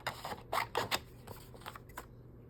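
Scissors snip through paper for a Ginger Frost mini junk journal, with a run of crisp, close cuts coming in short bursts and then tapering into lighter, quieter snips.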